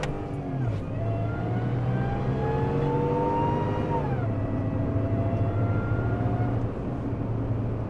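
A 700 HP 6.2L Ford Raptor engine revs hard during a pull, its loud, close roar rising and shifting in pitch through gear changes and holding strong to the end.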